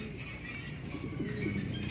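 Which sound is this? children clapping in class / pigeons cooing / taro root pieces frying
pigeons cooing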